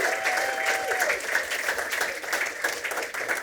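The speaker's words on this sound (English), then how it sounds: "Can we give them a warm round of applause?" A crowd claps warmly for guests on a character-creation panel at a comics convention, a steady, full burst of applause throughout with a faint voice beneath.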